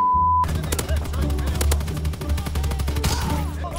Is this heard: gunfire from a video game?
yes